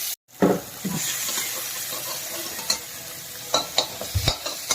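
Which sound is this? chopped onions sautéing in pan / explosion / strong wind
chopped onions sautéing in pan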